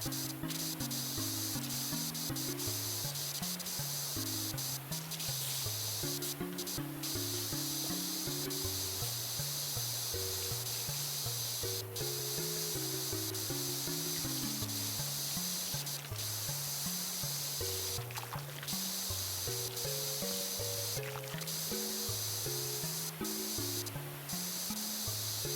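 A pressure washer in the PowerWash Simulator video game sprays water in a steady, loud, unbroken hiss that runs the whole time, with a simple melodic game music track playing underneath.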